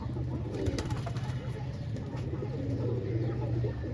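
Racing pigeons coo softly on a rooftop loft while birds fly overhead, low repeated coos over a steady outdoor hum, fairly faint with no speech.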